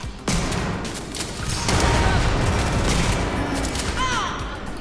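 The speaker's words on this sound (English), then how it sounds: "I'm hearing gunfire." Gunfire in the Starfield video game: a burst of shots and booms over a dense, noisy battle backdrop with some whooshing effects, loud and busy throughout.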